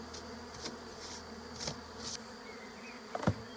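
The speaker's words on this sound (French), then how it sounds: "Il reste que des bourdons." Bumblebees buzzing inside a beehive, a faint, steady insect drone with a few brief louder swells as individual bees pass close, no voices.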